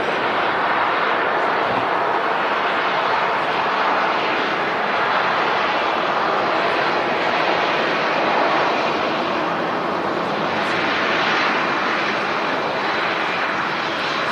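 An airliner in from Heathrow lands at Manchester Airport, its engines giving a loud, sustained roar that holds steady across the whole stretch with no voices over it.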